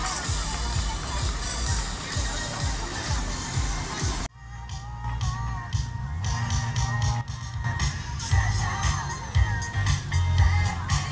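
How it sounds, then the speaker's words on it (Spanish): A crowd at a marathon along Costa del Este cheers and claps as runners arrive, a loud, busy roar of voices and shouts with children among them, briefly dipping before swelling again. "Un fuerte aplauso."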